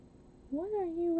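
A cat outdoors gives a single rising then sustained meow, clear and fairly close, with faint background noise and no talk over it.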